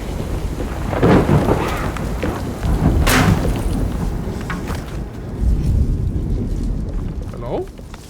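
Heavy rain pours steadily while thunder rumbles and cracks loudly several times in the game Alone in the Dark, a dense continuous downpour with no one speaking.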